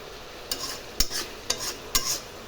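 Spice paste sizzles in hot oil for an aloo dum potato curry while a spoon stirs it, giving four sharp scraping strokes about half a second apart, each followed by a brief sizzling hiss, close and without talk.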